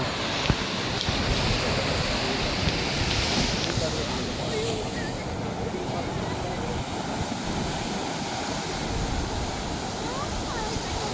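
Sea waves wash onto a beach in a steady, broad roar. Wind buffets the microphone throughout, and the surf stays loud and continuous the whole time.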